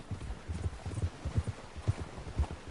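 A horse's hooves clip-clop in a steady trotting rhythm in Red Dead Redemption 2, the regular muffled beats close and moderately loud over faint wind.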